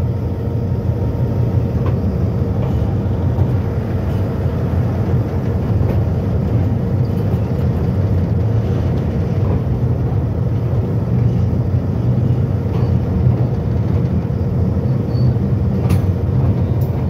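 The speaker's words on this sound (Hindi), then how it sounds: "बहुत ही स्लोली स्लोली लोकोमोटिव इसके ऊपर से मूव हो रहा है" A locomotive rolls slowly across railway bridge no. 27 on the Harnai section in Balochistan, giving a loud, steady low rumble with constant rail noise throughout and no voices.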